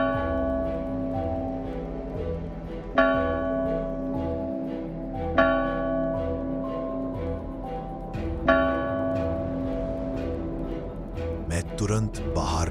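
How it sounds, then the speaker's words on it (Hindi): A church bell tolls in slow, evenly spaced strikes a few seconds apart, each ringing out and fading over a low, dark background drone. "पर जवाब में सिर्फ घंटी बजती रही"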